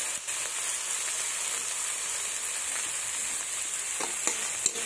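Nigella seeds (kalo jeera) frying in hot oil make a bright, steady hiss with a few light clicks near the end, close and unbroken by speech.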